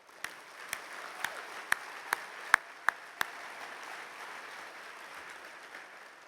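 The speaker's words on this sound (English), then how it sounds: "We may even give them all a round of applause." Audience at the 2016 Western Conservative Summit applauding: a soft, distant wash of many hands clapping, with a few sharper near claps punctuating the first few seconds before settling into a steady murmur of applause.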